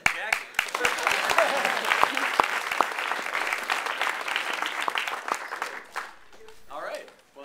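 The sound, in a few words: audience applause at a panel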